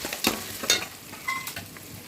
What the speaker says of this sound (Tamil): நல்லா ப்ரௌனாக வதங்கணும்